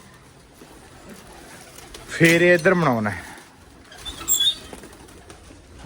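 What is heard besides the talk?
pigeons cooing and flapping wings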